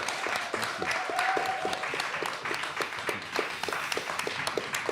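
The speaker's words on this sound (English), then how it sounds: "give a particular round of applause and just enthusiasm for Peter Spafford" An audience applauds steadily and enthusiastically at a literary anniversary event, with dense, continuous clapping filling the room for about five seconds and no talk over it.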